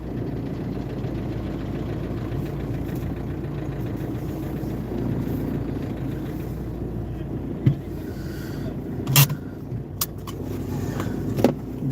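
A car engine idling steadily at a fuel station while stopped to fill diesel, a low continuous rumble with a few brief clicks and knocks near the end.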